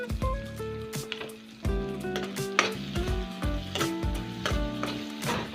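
Red chili, cumin and coriander powder fry in a pan with tomato for a bamboo-shoot and carrot dish, giving a steady sizzle broken by scraping stir strokes and faint tonal clinks, close and moderately loud.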